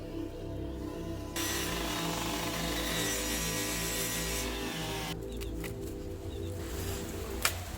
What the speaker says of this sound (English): Why are you guys cutting down a tree?